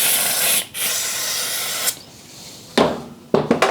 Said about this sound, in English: spray a lot of brake clean in there in hopes of flushing all the oil out